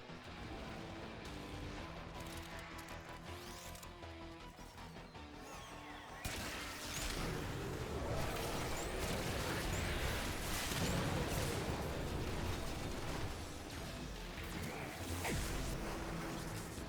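Explosions from Technocyte Coda thermal charges in Warframe erupt in a dense, sustained barrage of blasts, crashes and gunfire, loud and continuous, intensifying sharply partway through.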